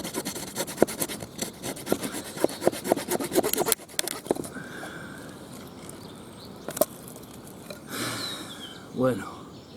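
Saw blade of a Victorinox Soldier pocket knife cutting through hard, dense wood, rhythmic rasping strokes up close that later slow to scattered scrapes.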